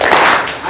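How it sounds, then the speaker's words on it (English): A gala dinner audience claps once in unison, a single loud burst of clapping. "Clap once."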